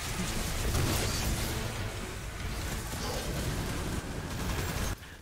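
A frag grenade going off in a video game, a loud continuous rumbling blast with rolling crackle that holds for several seconds before cutting off abruptly, no talk over it.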